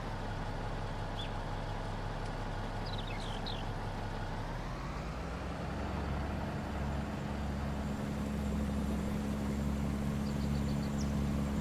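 Steady low engine drone of a Kenworth truck cruising in Farming Simulator 19 while harvesting cotton, a continuous rumble that shifts pitch partway through and holds a constant tone, with no talking.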